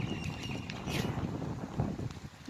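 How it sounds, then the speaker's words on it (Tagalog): Gusty wind buffets the microphone in rough, rumbling bursts, loud and close, with faint clattering sounds in the background. "grabe yung hangin, sobrang lakas"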